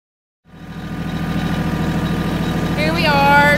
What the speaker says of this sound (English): Here we are driving the tractor